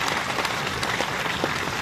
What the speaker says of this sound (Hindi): जरा जोरदार तालियां एक बार दैनिक जागरण के सम्मान में।